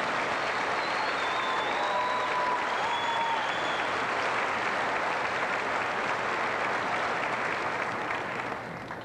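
A large audience at a 1997 high school graduation ceremony applauds graduating students in a steady, sustained round of clapping lasting the whole stretch, dense and even, with faint crowd murmur and a few brief whistles or squeaks.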